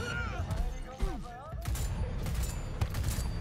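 Assault rifle fire in Cyberpunk 2077 breaks out in loud bursts and a sharp burst near one second, over a busy, dense game soundscape with in-game voices in the mix.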